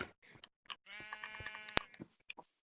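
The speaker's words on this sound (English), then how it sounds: "Got a rainbow sheep." A sheep in the video game Minecraft gives a single clear, wavering bleat, close and moderately loud, surrounded by faint clicks.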